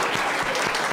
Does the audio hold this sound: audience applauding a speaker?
yes